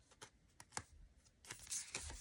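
Tarot cards being shuffled and drawn: quiet papery riffles and flicks up close, ending in a louder burst of card shuffling.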